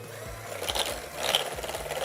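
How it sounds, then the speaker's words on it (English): Brown sugar, white sugar and eggs are creamed together for peanut butter chocolate chip cookie dough with an electric mixer, which gives a soft, steady whirring hum that stays low and even and has no voices over it. "we can mix that up, put that in there, and just cream it all together"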